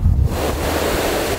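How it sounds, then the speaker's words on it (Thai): Strong wind roars at the seashore with crashing surf, a loud, steady rush buffeting the microphone for the whole stretch and no one speaking. "โอ้ลมอย่างแรง"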